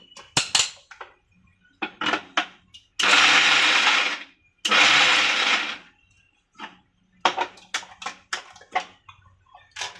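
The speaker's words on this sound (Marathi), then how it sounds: "आता आपण हा दुसरा मका पण तसाच फिरून घ्यायचा" A kitchen mixer grinder coarsely grinding fresh corn kernels for bhaji batter, in two loud sustained whirring bursts of about a second and a half each, separated and surrounded by clattering taps of the jar and utensils.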